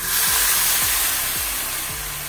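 Boiling water hits roasted vermicelli in a hot pan with a loud, rushing hiss of steam and sizzle that starts sharply and fades only slightly, alone without any talk.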